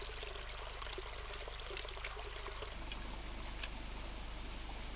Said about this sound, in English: Filming the tiniest stream of water.